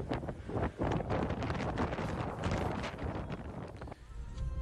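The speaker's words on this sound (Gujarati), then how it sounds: "મિની વંટોળિયા સાથે ભારે પવન ફૂંકાયો છે" Strong gusty wind with mini whirlwinds blowing in Morbi, Gujarat under cloudy skies, a loud continuous broadband roar buffeting the microphone for the whole stretch, easing slightly near the end.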